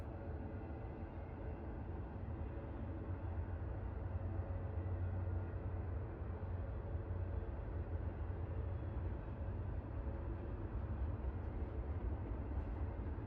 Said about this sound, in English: No, my train noises are playing.